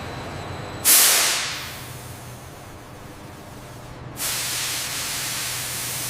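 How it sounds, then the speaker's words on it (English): A compressed air system for pneumatic controls in a bottled green tea factory gives off a sharp burst of hiss that fades. A few seconds later a steady spraying hiss starts and holds under a low industrial hum. "This sophisticated system provides the ultra-clean, dry compressed air vital for our pneumatic controls and sterile environments."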